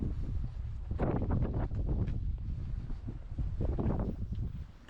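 Gusty wind buffets the microphone high on Signal Hill in St. John's, low rumbling bursts surging and easing irregularly throughout, with no voices.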